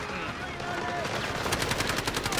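Quiet in-game ambience with a faint voice gives way to a rapid, sustained automatic burst from a CI 19 in the video game Delta Force, sharp shots fired in quick even succession.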